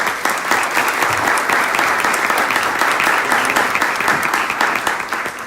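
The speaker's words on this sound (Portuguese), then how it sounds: "Por favor, uma salva de palmas." Sustained audience applause at a privacy and data-protection conference in Brazil, dense even clapping from a large crowd throughout, with no speech over it.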